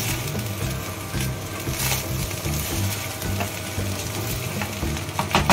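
Fried rice being stirred in a wok after salt and sugar go in, with a steady sizzle and repeated scraping and clattering strokes of the spatula, loud and close throughout.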